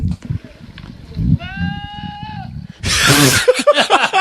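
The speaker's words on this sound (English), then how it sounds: "This goat is actually saying, bah." A goat bleats a long, steady, nasal cry that sounds startlingly like a man yelling, standing out clearly between bursts of nearby talk and a loud rustling clatter.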